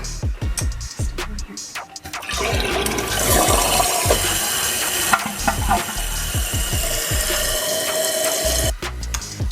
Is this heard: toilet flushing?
yes